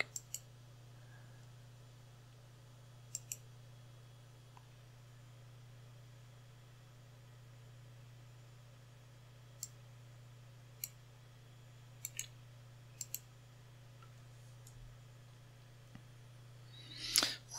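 Computer mouse clicking on an Ubuntu 18.04 desktop, with a handful of faint, sharp, isolated clicks spread over a steady low hum, some in quick pairs.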